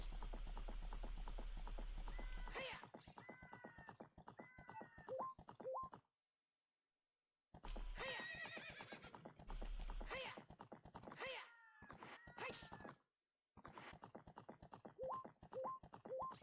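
Epona the horse in Ocarina of Time gallops across Hyrule Field, with rapid rhythmic hoofbeats, bright neighs and whinnies, and a few brief pauses between runs, all loud and up close.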